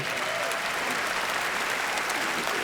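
A large theatre audience at the 76th Primetime Emmy Awards in the Peacock Theater, Los Angeles, applauds in a steady, dense wash of clapping with no pauses.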